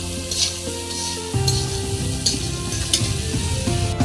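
Masala sautés and is stirred in a pan with a continuous loud sizzle, broken by repeated scraping strokes of a spatula at a steady rhythm, with no voices.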